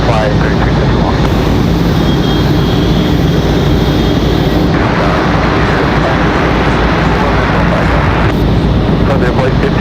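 A Southwest Boeing 737-800 departs Raleigh-Durham, its engines a loud, steady broadband roar filling the whole clip, with talk over the noise.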